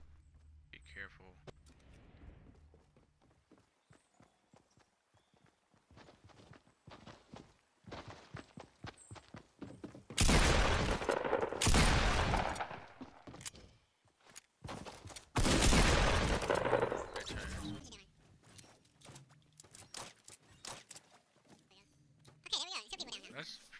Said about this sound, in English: So everybody and their mom is shooting out here